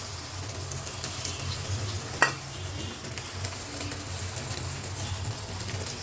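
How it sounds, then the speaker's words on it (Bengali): An egg fries in olive oil in a pan, producing a steady, soft sizzle throughout with one sharp utensil clink partway through. "এখন হচ্ছে ডিমটা ভেজে দিব একটু অলিভ অয়েল দিয়ে"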